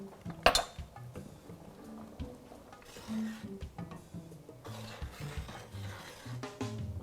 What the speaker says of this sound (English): And then I'm going to stir it with my spoon.